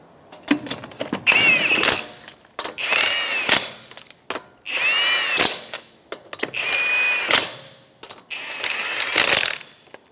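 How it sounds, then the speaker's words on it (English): Lug nuts on a 2012–2016 Subaru Impreza wheel are tightened in a star pattern with five close, loud whirring bursts, each followed by clicks and a metallic clatter, with short quiet gaps between them. "I'm gonna tighten them down in a star pattern to make sure they are tightened down equally"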